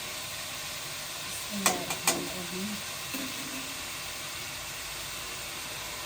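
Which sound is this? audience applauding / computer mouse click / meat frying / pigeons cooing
meat frying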